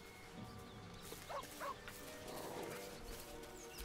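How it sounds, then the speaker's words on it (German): A couple of faint, quick dog barks and yips in the video game Baldur's Gate 3, over a low, steady background hum, with no talking. "Das ist ein Hund, oder was ist das?"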